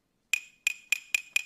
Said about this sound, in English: There's the sound of the glass